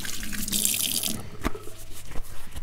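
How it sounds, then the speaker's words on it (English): A couple of glasses of water pour into a turkey roasting pan for gravy, a loud, close splashing gush lasting about a second, then fading to a few drips and light handling noises. "So a couple of glasses of water is perfect in there."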